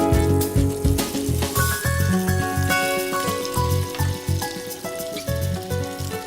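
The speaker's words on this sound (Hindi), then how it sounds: "तो दोस्तों तेल गरम हो चुका है, अब टिक्की फ्राई करना शुरू करते हैं।" Vegetable tikki patties fry in hot oil with a steady crackling sizzle. Tonal background music plays over the sizzling and nobody speaks.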